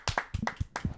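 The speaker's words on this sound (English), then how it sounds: "Let's clap it up." A few people clap in a short, close burst of about six sharp claps in an uneven rhythm, with no talking.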